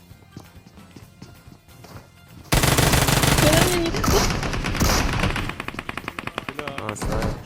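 Gunfire breaks out suddenly in a video game, with a loud burst of rapid shots followed by a string of sharp, repeated reports that keep going to the end.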